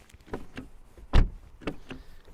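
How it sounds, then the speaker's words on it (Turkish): A door on a C5-generation Audi A6 saloon with a 3.0 V6 thumps shut once, close by. A few lighter clicks and handling knocks come before and after it, with no talk. "Kapıları hafif ama sesi oldukça güzel."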